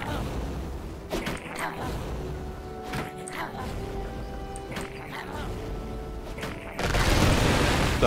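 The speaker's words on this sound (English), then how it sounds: "We have got cannons." Cannons boom repeatedly in the Dungeons 2 strategy game, sharp impacts landing over a dense, continuous bed of battle noise and game sound, with the din swelling louder near the end.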